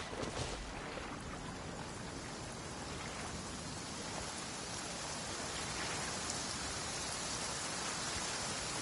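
Heavy downpour in the video game Genshin Impact, a steady, dense hiss of rain that holds evenly from start to finish with no voices.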